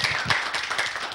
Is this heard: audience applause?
yes